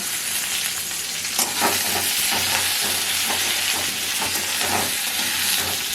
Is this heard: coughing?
no